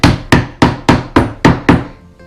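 Small nails being hammered into a wooden dresser, seven sharp evenly spaced strikes, loud and close, each ringing briefly before the next, with no talking.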